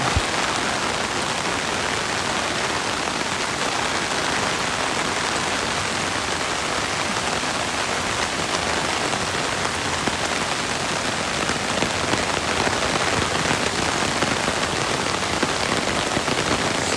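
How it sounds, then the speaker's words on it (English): A river in Japan rushes past in a steady, full roar of flowing water that holds an even level throughout, close by and with no voices over it. "And there's the river."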